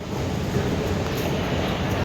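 A Delhi Metro Pink Line train pulling into an elevated station, a steady loud rolling rumble with rail noise that stops abruptly.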